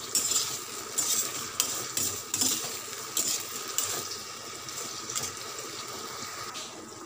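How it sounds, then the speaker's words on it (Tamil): Onions and tomatoes with salt sautéing in a pan, with a steady soft sizzle and repeated scraping stir strokes from a utensil throughout, up close and with no talking. "உப்பு சேர்த்து இன்னும் கொஞ்சம் வதக்கிக்கலாம்."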